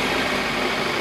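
Steady, even idle of a 2008 Suzuki Carry 1.5 pickup's engine, a close continuous hum with no other sounds over it.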